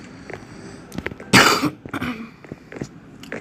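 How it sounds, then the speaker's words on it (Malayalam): A single sharp cough bursts out close to the microphone from a person playing Minecraft, surrounded by faint clicks and soft throat noises before and after. "ചെറിയൊരു ചുമണ്ട് ചേട്ടാ"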